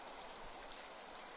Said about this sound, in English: The roar of the waterfall reminds Nathan of his training.